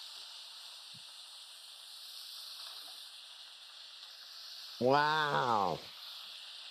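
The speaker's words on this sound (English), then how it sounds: "So now we are adding our peppers and our potatoes to our translucent onions." Peppers and potatoes sizzle in a pan of translucent onions, a steady bright hiss throughout, briefly joined by a voice exclaiming near the end.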